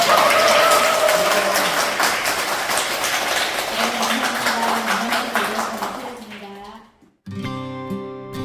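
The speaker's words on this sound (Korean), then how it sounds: "강사님께 뜨거운 박수 한번 맞춰주세요" An audience at a Chuseok-season lecture claps warmly for the lecturer. The applause is dense and steady with a voice over it, then fades out before music begins.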